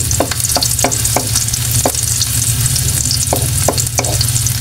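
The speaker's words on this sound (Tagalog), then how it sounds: "So, sa ngayon po, igigisa po natin siya." Ginger sizzles loudly in hot oil in a close-up pan, a dense steady crackle broken by repeated scraping strokes of a spatula stirring at an uneven rhythm, with no talking.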